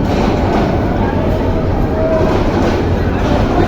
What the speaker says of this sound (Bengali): ঢাকা থেকে ছেড়ে আসা মহুয়া এক্সপ্রেস এখন বিমানবন্দর স্টেশনে পৌঁছালো।